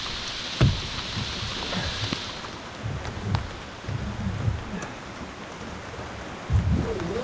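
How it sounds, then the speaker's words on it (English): Pouring rain at a home on a stormy day, a steady hiss of heavy rainfall with low rumbling thuds and occasional sharper knocks scattered through, fairly close and continuous. "Well, we're home, and it's pouring rain."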